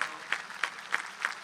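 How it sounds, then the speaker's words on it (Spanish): Applause at a university graduation ceremony for biological and health sciences, a soft crowd clapping with a few sharper claps landing roughly every third of a second, heard from a distance. "un aplauso para ella, por supuesto"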